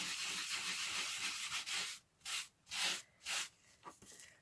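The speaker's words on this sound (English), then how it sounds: "I'm hoping I'm not rubbing the glitter off." Soft scratchy rubbing of glitter on a Christmas craft tag, close and quiet, in a few short bursts after a longer continuous stretch.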